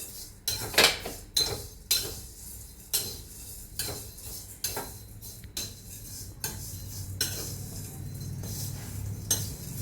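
Vermicelli being stirred and roasted in a pan while a utensil clinks and scrapes against the metal in repeated sharp strokes, over a steady low frying hum.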